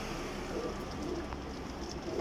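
Racing pigeons coo softly in a loft or coop, a low, muffled coo under a constant background hum. A faint brief chirp sounds in the background.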